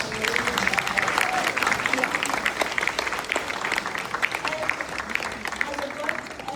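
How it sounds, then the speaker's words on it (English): A crowd applauds steadily, a dense patter of clapping hands that holds at an even level throughout. "if I could get a round of applause"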